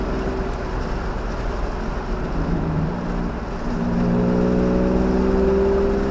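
A car with its windows down and a ported cylinder and polished intake manifold mod accelerates hard, a loud, steady engine drone with rising tones that climbs in pitch as revs build over the pull.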